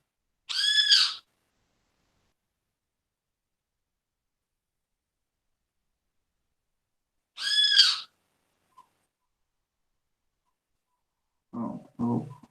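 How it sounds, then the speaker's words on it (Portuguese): A small bird calls outdoors in two short, high whistled notes spaced several seconds apart, clear against near silence, followed by a faint brief sound at the end. "Tem um passarinho aqui, é verdade."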